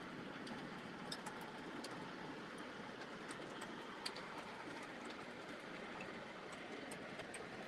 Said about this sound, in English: The steam engine is the Lionel Vision Line Class A, 1218.